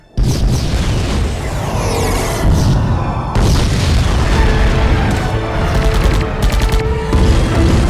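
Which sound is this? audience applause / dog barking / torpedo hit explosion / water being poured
torpedo hit explosion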